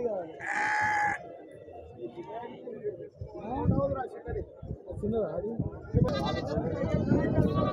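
Lambs bleating in short, high calls at a livestock market, one near the start and another near the end, over steady background chatter and farmyard noise.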